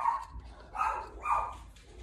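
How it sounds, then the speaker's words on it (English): A Chihuahua barks three times in quick succession, sharp and close, with short gaps between the yaps and no talking. "And the dog's going crazy"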